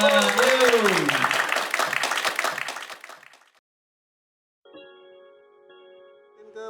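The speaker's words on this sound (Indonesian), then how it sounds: "Tepuk tangan dulu." A group claps for a student economics association introduction, loud clapping with a voice over it for about three seconds, then fading to silence, followed by faint tonal electronic sounds.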